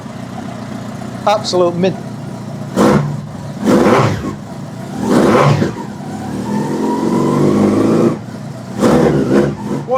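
A 23-year-old motorcycle, started on the button, idles and revs up repeatedly in a garage, its engine pitch rising and falling close by while people talk over it.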